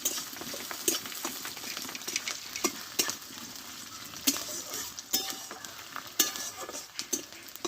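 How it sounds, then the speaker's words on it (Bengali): Onions frying in a pan until reddish-brown, a continuous close sizzle punctuated by repeated scraping strokes of a spatula stirring them. "লাল লাল করে আমি ভেজে নেব দেখো পেঁয়াজটা"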